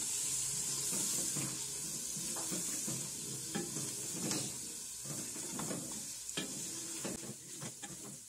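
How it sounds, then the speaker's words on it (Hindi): Potatoes frying in mustard oil with a continuous sizzle, while a utensil stirs and scrapes through them in repeated strokes, close up and steady throughout. "अब हम इसमें आलू ऐड करेंगे और इसको अच्छी तरह भून लेंगे।"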